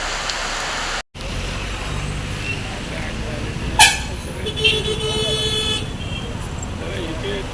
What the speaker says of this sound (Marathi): पाऊस खूप आहे